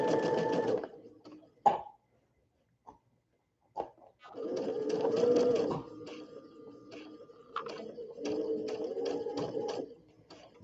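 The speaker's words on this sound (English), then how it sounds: "And that's how you sew a curve." Domestic sewing machine stitching a curve on a baby sunsuit, a steady close whirring hum in bursts that stop and restart, with short pauses and a few clicks between runs.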